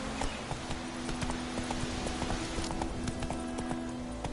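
A horse gallops in The Witcher 3 with steady, rhythmic clip-clopping hoofbeats over a constant low hum, fairly quiet and without speech.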